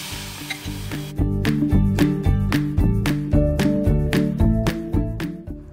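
Pitha pieces dipped in batter fry in hot oil in a pan over low to medium flame, a steady close sizzle with repeated sharp clinks and scraping as they are turned, no talk.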